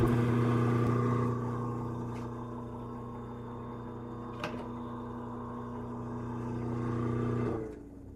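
A new electric motor fitted to a Delta bandsaw hums steadily with a tonal whine, running for several seconds with a faint tick partway through before spinning down near the end.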